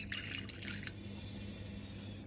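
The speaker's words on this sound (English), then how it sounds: "And you want a little splash of milk." Oat milk splashes into a pan with cacao, a brief liquid pour and drip lasting under a second, then quieter background hum.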